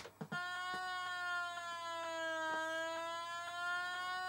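A rising and falling electronic space siren from the Commodore 64 game The Fabulous Wanda, a steady harmonic-rich synthesized wail that sweeps slowly in pitch and pulses at regular intervals, loud and alone after a couple of short opening blips.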